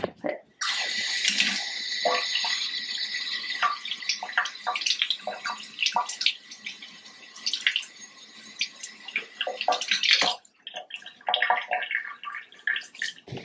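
A sponge works over a bathtub with Comet bleach cleaning powder amid running water, producing near, wet swishing and rubbing strokes that rise and fall, with a brief break before lighter scrubbing resumes.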